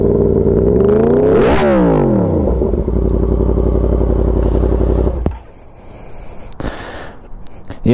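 A Yamaha FZ-10 motorcycle engine idles and revs loudly up close, a deep, slightly crackly rumbling exhaust with a sharp rev that then drops away to quieter background noise.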